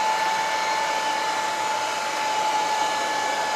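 A powerful hot air tool, much like a heavy-duty hair dryer, blows heat onto metal-backed cabochons, giving a loud, steady, close roar with a constant whine and no break.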